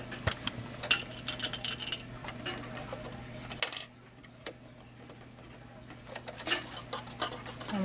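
A sewing machine stitching binding onto a potholder, quiet rapid ticking bursts that stop and restart with short pauses, close by and alone.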